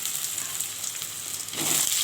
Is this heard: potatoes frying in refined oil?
yes